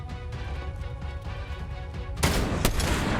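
Fortnite gunfire erupts in loud, close shots near the end, a dense sudden burst with one sharp crack standing out after a quieter stretch of game noise.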